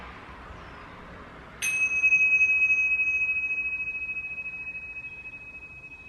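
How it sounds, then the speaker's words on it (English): A single meditation chime struck once, ringing clearly with a pure sustained tone that slowly fades away over several seconds above a quiet background. "just listening to the sound of our chime as it"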